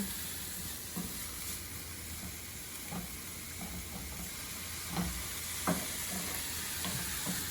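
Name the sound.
stirring meat and soy sauce in a frying pan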